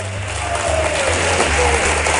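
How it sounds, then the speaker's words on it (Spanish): At a comedy show, the audience gives a short burst of steady applause, a moderate wash of clapping over a low hum. "gracias por sus tímidos aplausos."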